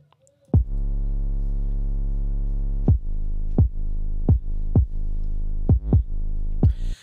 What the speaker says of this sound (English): every time that kick drum hits, it's going to yank down the signal of my 808